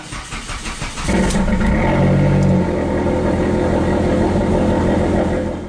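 A car engine cranks and fires up on its first start after an oil change to synthetic oil, then settles into a loud, steady idle that continues to the end, with no talking.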